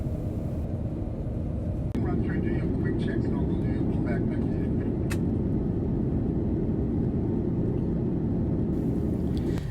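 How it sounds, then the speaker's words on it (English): A Qantas Airbus A330-300 lands at Soekarno-Hatta Airport, heard from the economy cabin as a loud steady low engine and airflow roar, with a sharp thump and rising rumble as the wheels meet the runway. "Here is our landing process."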